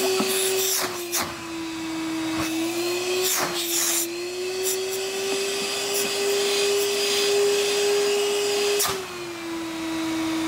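A Vacmaster 8-gallon two-stage motorized shop vacuum runs under suction with a loud, steady high-pitched motor whine, the pitch wavering slightly, broken by brief clacks and bumps, with no voices.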